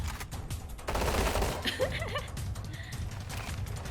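Gunfire in the Roblox Combat Arena battlefield map, heard as a steady run of rapid, loud shots that carries on without a break, with game sound effects layered over it.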